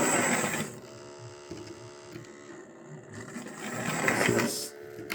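A Hornby D tank clockwork model locomotive runs at half power, giving a steady, close, busy mechanical whirring and clattering that swells and eases over several seconds, alone without talk.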